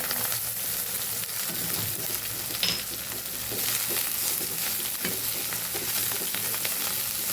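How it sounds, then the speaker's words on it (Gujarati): Steady, loud sizzling of patra (colocasia leaf rolls) frying in hot tempering oil with white sesame seeds, with occasional stirring clinks and crackles throughout, no voices. "એની અંદર આપણે પાત્રાનો વઘાર કરી દેવાનો છે"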